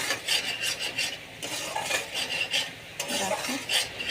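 Spice masala being sautéed in a pan, rapid repeated scraping and stirring of a spatula against the metal over a constant close sizzle, with no talk.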